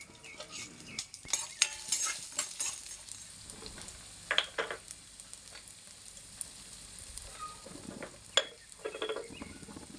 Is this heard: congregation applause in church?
no